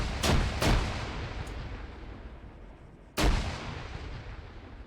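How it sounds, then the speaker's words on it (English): In the Arma 3 video game, two quick grenade blasts boom close together, then a third heavy explosion follows after a pause. Each blast decays into a long rumbling tail. "Everybody understands how you throw a grenade"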